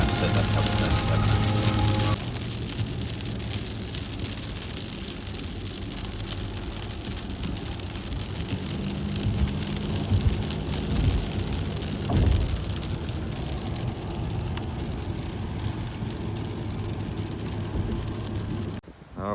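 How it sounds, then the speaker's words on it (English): Heavy rain pours down steadily outdoors, a dense broadband hiss with scattered splashes and patters, loud throughout with a few muffled knocks and faint background sounds. "It's not exactly a light rain."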